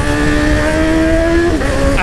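A Honda CB1000 motorcycle with a reprogrammed exhaust revs loudly and steadily close to the microphone. The engine note holds, then dips briefly near the end before picking up again. No one speaks.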